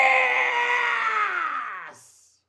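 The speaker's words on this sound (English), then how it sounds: "I screamed so loud on that last one" A man gives a single long, loud, sustained scream in the style of a rock concert announcer, holding the note before it drops off sharply and fades to silence.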